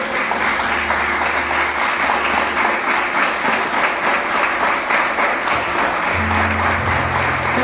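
A church congregation claps hard and continuously in praise, the sustained applause blending with low sustained keyboard or organ tones underneath.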